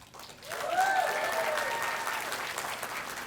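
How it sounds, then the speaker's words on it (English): Wedding guests applauding the bride's mother at a reception: a burst of group clapping rises quickly and holds steady and full, with a few faint cheers or whoops rising over it early on. "So I would like you to applaud Sylvia."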